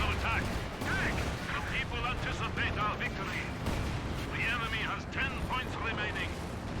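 An anti-tank gun fires in a Company of Heroes 2 battle, its booms blending into a dense, continuous din of combat noise while a commentator talks over it throughout.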